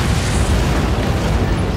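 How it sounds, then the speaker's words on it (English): An antimatter charge blows up aboard a ship in the video game Halo, giving a loud, dense, sustained roar with rumble and crackle that fills the whole stretch without a break. "I'd guess an antimatter charge."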